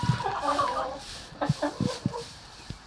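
Chickens cluck in short bursts inside a clean coop, close and fairly quiet, with a person's voice talking softly among them.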